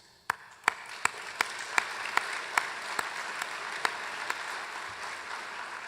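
Applause at a tribute event, thin and modest, with a dozen or so sharp separate claps standing out over a soft background patter, fairly quiet overall.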